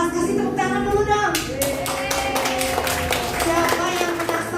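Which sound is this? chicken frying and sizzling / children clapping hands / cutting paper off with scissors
children clapping hands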